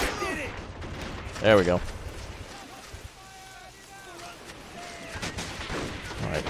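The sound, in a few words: 30 cal machine gun fire in the video game Men of War: Assault Squad 2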